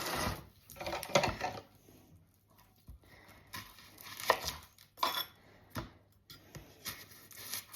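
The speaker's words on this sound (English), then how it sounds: "I'm going to firstly go in and chop up these onions." A knife chops onions into chunky pieces on a board for a Chinese-style cheat's curry, giving a series of close, sharp knocks in uneven bursts with quieter pauses between, no talking.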